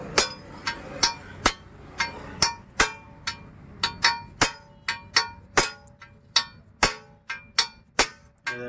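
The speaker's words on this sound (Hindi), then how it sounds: "बैरिंग को निकालना है तो उसको ठोक के निकालना पड़ता है" Sharp metallic hammer blows knocking out a Skoda Superb ABS wheel bearing, about twenty ringing clangs in an uneven rhythm, close and fairly loud in a workshop with no talk.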